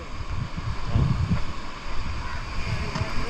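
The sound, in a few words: sea waves on the beach at Gokarna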